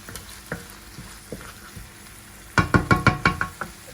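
Pumpkin being stirred into risotto in a pan: a few soft knocks, then a quick run of close, scraping stir strokes near the end, with a light sizzle underneath.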